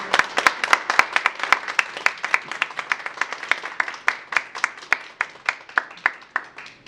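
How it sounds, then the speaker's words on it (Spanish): A small audience at a talk on annual personal tax returns claps with distinct, fairly sparse hand claps. The pace is quick and steady and the clapping carries on for several seconds at moderate loudness, with no voices over it. "un fuerte aplauso para él"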